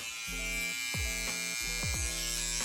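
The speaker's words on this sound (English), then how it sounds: "you're about to see this trimmer is super loud" A loud electric hair trimmer buzzes steadily close up, its pitch dipping and rising several times as it is handled or pressed.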